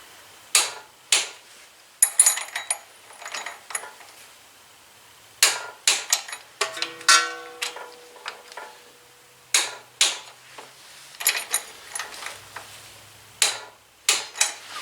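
Torque wrench clicking on the head bolts of a Husqvarna Z254 riding mower engine, sharp close clicks in short groups separated by brief pauses, with a little clatter between them and no talking.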